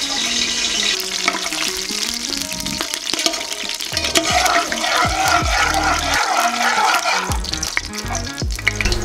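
Whole cardamom, cloves, bay leaf and cinnamon fry in hot oil for biryani, giving a continuous close sizzle with crackling pops, scraping and occasional stirring knocks.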